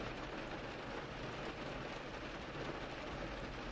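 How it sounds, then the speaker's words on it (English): Steady rain falling in a continuous, even hiss with faint low rumble beneath, constant and unbroken throughout, no voices. "the rain seems to briefly up its tempo before resuming its steady rhythm"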